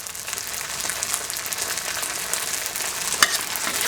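Noodles stir-fried in garlic-infused oil in a pan, a continuous close crackling sizzle with scraping stir strokes and one sharp clink of a utensil near the end, no voices.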